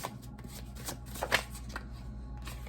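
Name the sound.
tarot cards being shuffled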